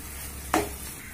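Khoa cooking down in a pan for pedha is stirred, giving one brief scraping swipe of a spoon over a soft, continuous low sizzle.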